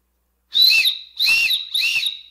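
Emergency whistle built into a survival-kit spork, blown three times in quick succession: shrill, piercing near-field blasts with short gaps between them, heard alone.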